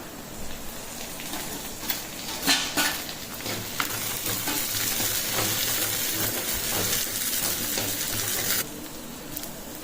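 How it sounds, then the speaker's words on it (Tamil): Sliced onions sautéing in a pan for a fish kurma, a steady close sizzle of frying with intermittent scrapes and clinks of a spoon stirring. "வெங்காயம் நல்லா வதங்கிடுதுங்க."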